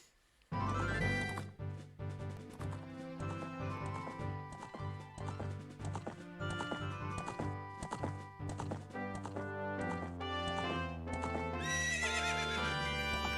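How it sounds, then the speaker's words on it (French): In Zelda: Ocarina of Time, the horse Epona whinnies loudly, then gallops with steady rhythmic hoofbeats under game music, with another neigh near the end. "maintenant, on peut se balader dans la plaine d'Hyrule à cheval"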